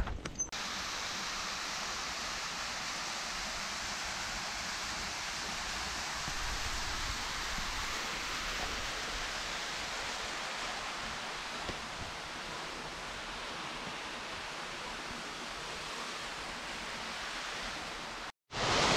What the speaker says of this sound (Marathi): इथं आलो दिसतं मला वॉटरफॉल